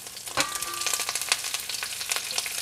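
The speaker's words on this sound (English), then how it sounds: "All right, the oil is hot. Now I'm going to add the cabbage," Shredded cabbage, carrot and celery hit hot oil in a pan for homemade chicken chow mein, giving a sudden loud sizzle that settles into steady close crackling and spitting with no talk.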